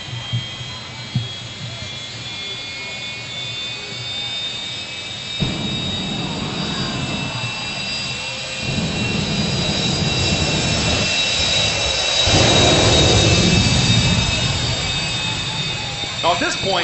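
A show car's jet engine turbine spools up at about a quarter of its capacity at an outdoor fire-and-lightning thrill show, a steady loud whine with high tones that swells in roar, with an announcer talking over it.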